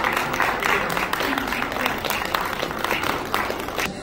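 Sustained applause from an audience at a physiotherapy event in India, a dense, even patter of many hands clapping throughout, fairly loud and close.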